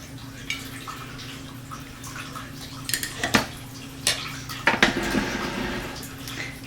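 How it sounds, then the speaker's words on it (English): A kitchen strainer full of vegetable stock solids being shaken over a bowl, soft drips and trickles with a few light clatters and taps of metal, fairly quiet and close. "Go ahead and give your strainer just a little shake"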